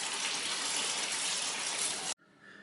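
Engine oil pouring from the drain hole of a Honda CR-V into a pan, a steady close splashing rush lasting about two seconds before cutting off abruptly to quiet.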